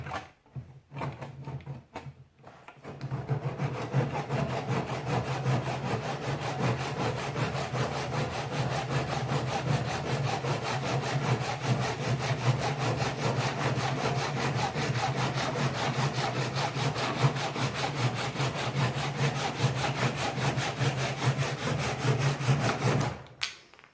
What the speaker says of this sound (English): And of course, a handsaw.